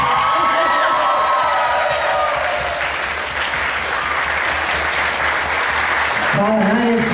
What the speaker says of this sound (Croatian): Molim vas još jedan veliki aplauz